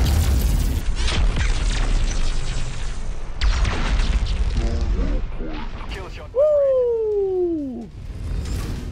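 Mech weapons firing and explosions in the MechWarrior 5: Mercenaries video game, a dense run of loud booms and crashes with a rising-then-falling whine near the end, mixed under someone talking.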